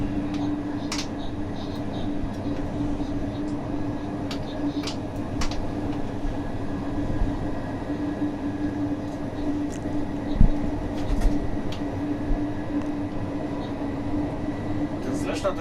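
A Polish night train runs steadily on the rails near Nowy Tomyśl, with a continuous low rumble and scattered faint clicks and knocks from the wheels and track, heard from on board without a break.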